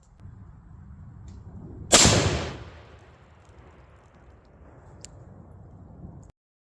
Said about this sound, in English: So there you have it, 300 Win Mag, on a pumpkin